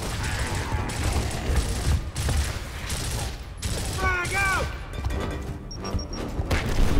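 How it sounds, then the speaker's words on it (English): Rapid gunfire bursts from the Gears of War Ultimate Edition video game, dense repeated shots with crashes and impacts over a busy game soundscape, with a brief voice mixed in. "I'm just shooting people."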